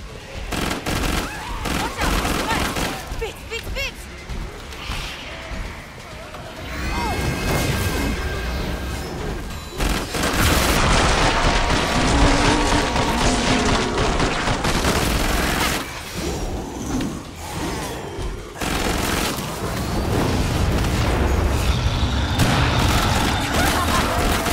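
Sustained gunfire in the video game Killing Floor 2, on a farmhouse map: loud, dense bursts of rapid automatic shots and heavy booms running almost without pause, with crashes mixed in and a voice speaking at moments.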